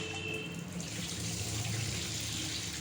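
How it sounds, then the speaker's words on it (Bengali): Steady, continuous rush of tap water running into a sink as rice is washed beneath it, filling the whole stretch at an even level with no talking. "চালটাকে ভালো করে ধুয়ে নিচ্ছি"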